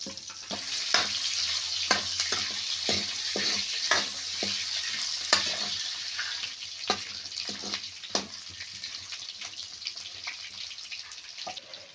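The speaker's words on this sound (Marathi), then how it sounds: "तेल टाकून घेतल्यानंतर आता थोडे वेळ परतून घ्यायचे तेलात चांगले" Dried Bombay duck sautéing in oil sizzles steadily and close by, while a spatula scrapes and taps against the pan in irregular strokes throughout.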